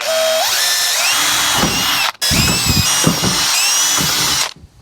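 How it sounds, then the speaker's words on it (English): A power drill bores holes in a DIY kayak crate. The motor whines loud and close with rising pitch, stops briefly partway, then runs again before winding down. Nobody talks. "We're gonna drill 4 holes in this"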